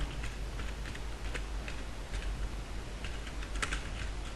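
Rapid light typing on a computer keyboard, a run of small clicking keystrokes over a steady hiss, near and quiet.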